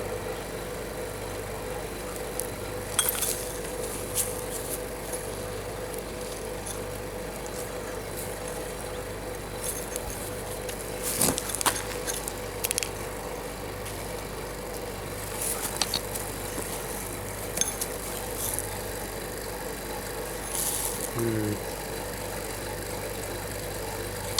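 Loose desiccant beads rattle inside a cut-open Daikin air conditioner drier, in scattered clicking bursts over a steady mechanical hum, close and fairly quiet.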